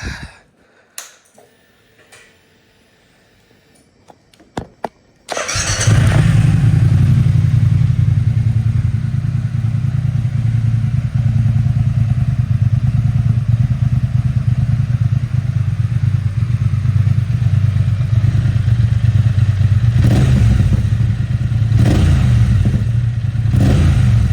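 A motorcycle fitted with Arrow Nichrom Pro-Racing silencers, baffles removed, fires up after a few quiet clicks and handling noises, then idles loud and deep with a couple of throttle blips near the end.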